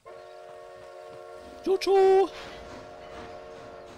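In the video game Red Dead Redemption, a train rumbles steadily while a short blast of its steam whistle sounds partway through, over a constant low hum; a voice speaks briefly in the scene.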